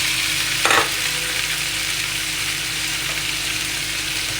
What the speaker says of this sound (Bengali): এটাকে ভালো করে নেড়ে একটু ভাজা ভাজা করে নিব।